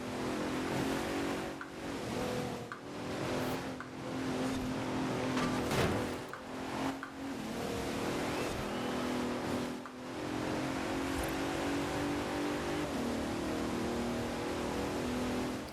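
A GT race car engine drones on and on in the Forza Horizon 4 racing game, loud and close, with rhythmic dips and surges from gear shifts and throttle changes and no talk.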